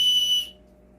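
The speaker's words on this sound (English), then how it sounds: "Has a whistle," A survival kit whistle gives one short, shrill, steady blast that stops abruptly after about half a second, leaving quiet background.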